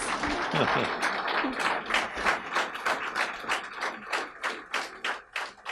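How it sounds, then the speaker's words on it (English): A small audience claps steadily, the dense applause thinning into a rhythmic, evenly spaced clapping pattern toward the end. "I think we can give a very round applause."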